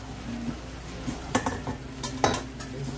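Frozen meatballs tumble into a sizzling stir-fry skillet with vegetables and liquid, bringing a run of clunks and utensil scrapes over a low, steady sizzle, close by and with no voices.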